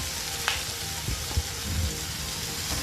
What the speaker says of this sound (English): The onions, tomatoes and capsicum have been stir fried for 2 to 3 minutes.